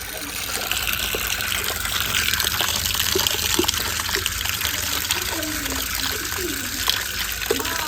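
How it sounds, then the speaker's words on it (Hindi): Water gushing and splashing steadily as rice is washed before cooking in an outdoor village kitchen, a continuous close wash of running liquid throughout with faint voices underneath. "चावलों को अच्छे तरीके से धोएंगे फिर पकाएंगे"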